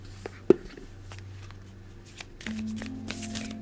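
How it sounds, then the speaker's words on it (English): A deck of cards is shuffled close by in a quiet room, producing soft riffling and scattered light taps and flicks over a faint background hum. "I'm getting this deck all shuffled up here"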